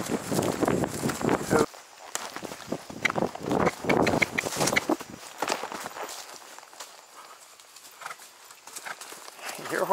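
A horse moves along an outdoor hunter pace course in autumn, its hooves giving a steady clip-clop of irregular thuds at close range, with people talking intermittently over the hoofbeats.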